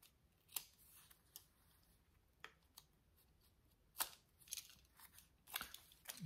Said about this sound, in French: Je vais peut-être essayer de faire ça avec mon cutter.